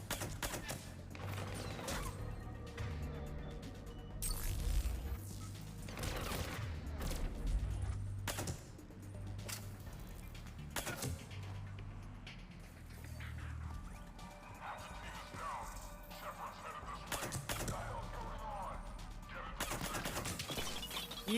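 Cluster grenade explosions during a Mass Effect 3 firefight, a dense run of sharp bursts and crashes rattling through continuous combat noise for about twenty seconds.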